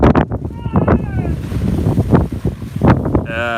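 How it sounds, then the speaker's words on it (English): Loud wind buffets the microphone during paraglider groundhandling, roaring and gusting beneath people talking nearby. "How windy is it today?"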